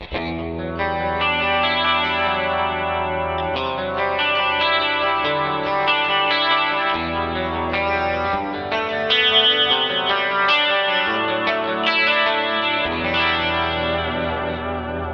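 Processed clean electric guitar in a Rockman-style tone with studio compressor, glossy and compressed, with lush large-hall reverb, chords and single notes ringing continuously, no voices.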